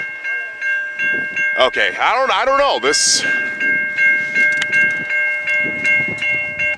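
Locomotive 2303 pulls an on-duty snowplow through a new railroad crossing at St. John's Sideroad in Pine Orchard, its horn blaring loud and close over crossing bells and rhythmic wheel clatter, while a person speaks briefly.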